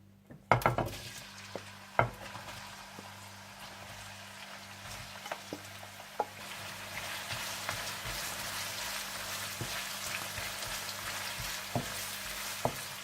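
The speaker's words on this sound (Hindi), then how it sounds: "सबसे पहले आप तेल डाल लें और इसमें प्याज डालकर इन्हें हल्का सा गोल्डन ब्राउन कर लें।" Onions frying in oil in a karahi pan, a steady soft sizzle with scattered clinks and scrapes of a utensil stirring, moderately close and with no talking.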